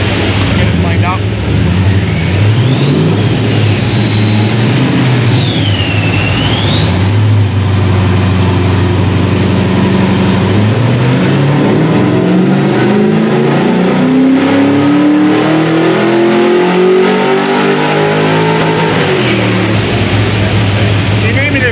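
Car engine revving hard and continuously on a dyno tuning run, loud and close, with rising and falling pitch sweeps as it winds up through the revs, some talk faintly beneath.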